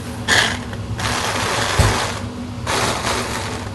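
Coffee infused with chicken broth and a little cream whirring in a blender, a broadband mechanical roar in two loud bursts with a steady low motor hum between them, close and without talk.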